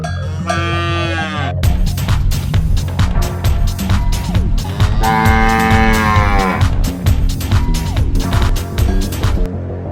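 A cow bellows in an old Dhaka neighbourhood during the Qurbani season before Eid, with loud repeated moos close by over a dense, busy crowd background.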